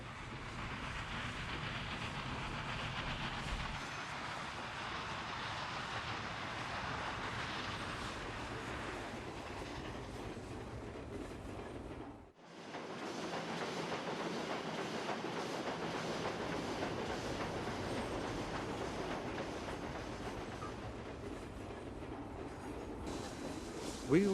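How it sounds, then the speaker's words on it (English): A loaded Wolfdean Pacific model ore train runs steadily along a layout with a continuous rolling rumble and faint clicking. It breaks off briefly near the middle, then resumes at the same even level. "just as another loaded Wolfdean Pacific ore train heads towards Woodstock"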